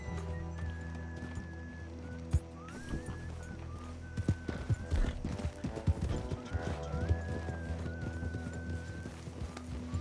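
In Red Dead Online, a horse whinnies a few times while its hooves clop and thud irregularly, with faint background sounds throughout.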